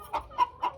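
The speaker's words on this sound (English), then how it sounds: "How do you know a girl rooster from a boy rooster then?" A backyard urban-farm chicken gives three short, clipped clucks in quick succession, close and clear against a quiet background.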